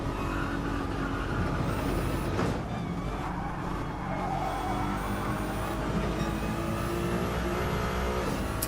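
A race car engine drones and revs continuously on the Nürburgring Nordschleife in a driving game, steady and fairly loud with gear-change shifts, other cars faintly audible around it.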